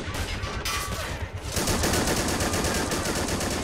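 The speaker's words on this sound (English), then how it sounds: "looks like we also have a coaxial in the front" A tank's coaxial machine gun fires in the Men of War World War II game, a dense continuous rattle of rapid shots that grows louder and steadier partway through, with no pauses.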